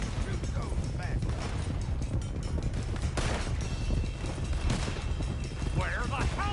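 Sharp gunshots crack during a Red Dead Redemption shootout, scattered over a steady clatter of galloping horse hooves, with shouting voices mixed in.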